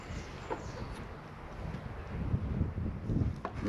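Light wind gusts outdoors, rumbling against the microphone beside a smoked-chicken cooking setup, growing slightly stronger toward the end.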